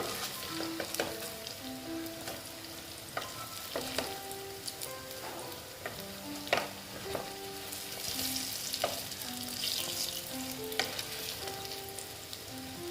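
Biulir dal (urad dal) pitha sweetened with sugar frying in oil, giving a continuous crackling sizzle with occasional stirring and turning clatters, heard under background music with no voices.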